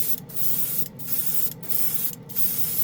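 An airbrush sprays paint thinned with isopropyl alcohol in steady hissing bursts, four short pauses breaking the continuous spray, close and fairly loud.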